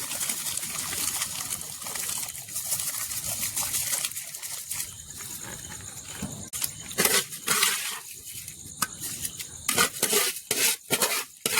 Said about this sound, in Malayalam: വെള്ളം തിളച്ചിട്ട് നമുക്ക് അരി ഇട്ട് കൊടുക്കാം.